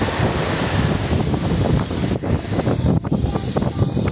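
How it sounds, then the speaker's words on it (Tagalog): Loud, continuous surf and crashing sea waves mixed with heavy wind buffeting the microphone, with no voices. "Malakas ang alon."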